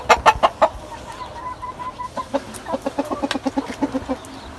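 Chickens cluck in quick, uneven bursts nearby, with a few louder calls at the start and a steady run of clucks after.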